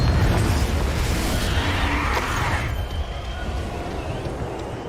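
A Confringo blast spell goes off during a creature fight in Hogwarts Legacy. It gives a loud, close, booming burst with a rushing, noisy tail that eases off slightly over a few seconds.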